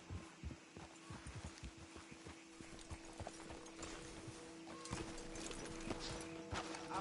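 Horse hooves clip-clop steadily on a dirt road in the video game Red Dead Redemption 2, with several horses moving at a walk. Creaks and a rattle of tack or harness run beneath the hoofbeats, and the sound stays fairly faint throughout.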